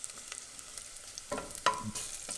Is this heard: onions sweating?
yes